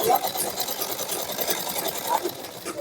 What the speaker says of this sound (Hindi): अब इसको ऊपर हम इस तरीके से लब की सिलाई ऐड कर देंगे उल्टी साइड में।